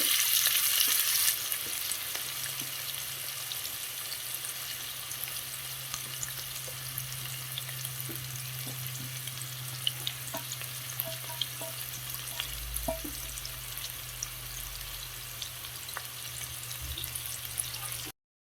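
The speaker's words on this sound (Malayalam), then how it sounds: "സവാള നമ്മൾ ഇതിലേക്കിട്ട് ഒരു ബ്രൗൺ കളർ ആകുന്നിടം വരെ നമ്മൾ ഫ്രൈ ചെയ്തെടുക്കുക" Sliced onions fry in oil until brown for a fish biryani, with a steady sizzle running throughout, occasional stirring clinks, and a low hum underneath; nobody speaks.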